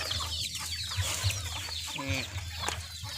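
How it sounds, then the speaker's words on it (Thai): Hens clucking and squawking close by in a busy farmyard, short overlapping calls crowding together over a low rumble of background noise. "นี่ก็มีแม่ไก่"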